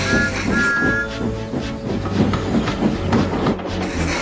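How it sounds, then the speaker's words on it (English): A steam train rumbles along the rails with rhythmic clickety-clack beats, a brief whistle-like tone sounding near the start, loud and close. "By the time they were through the tunnel, the train was running nicely."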